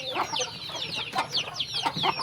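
Chicken clucking in a backyard pen, a run of short repeated calls at close range with occasional sharper notes, steady and moderately loud with no talk.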